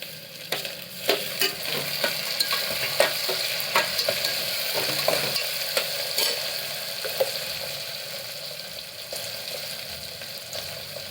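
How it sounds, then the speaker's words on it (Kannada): Onions frying in a pan with tomato added and stirred in for a simple rice bath, a continuous close sizzle broken by repeated scraping and tapping strokes of a spoon, with no talking. "ಈರುಳ್ಳಿ ಫ್ರೈ ಆಗಿದೆ. ಇವಾಗ ಟೊಮೊಟೊನ ಹಾಕೋಣ."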